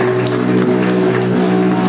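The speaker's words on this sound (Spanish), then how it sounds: "Dale un aplauso fuerte al Señor." A church congregation claps during a Sunday service, a dense, steady wash of applause that fills the room without a break.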